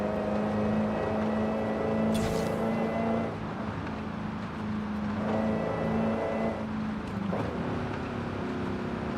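A car engine in the video game Forza Horizon 5 holding a steady drone around 3,200 RPM in a tall gear, with a constant tonal hum that dips briefly and then returns.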